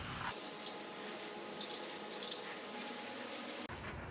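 Water sprays steadily from a hose to wet the sand joints of a paver patio, a continuous hiss and gush at moderate distance that cuts off abruptly near the end.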